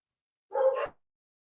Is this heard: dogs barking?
yes